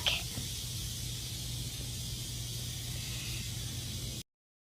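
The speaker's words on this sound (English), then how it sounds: "snake," A snake hisses in one steady, unbroken breath of broadband noise, fairly loud and close, lasting about four seconds before cutting off sharply, with a low hum underneath and no voices.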